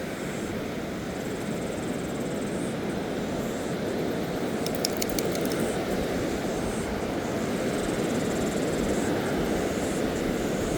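A Nuffield tractor engine runs steadily and loudly near Waimārama Beach, a constant rumbling drone that lasts the whole stretch with no break or change in pace.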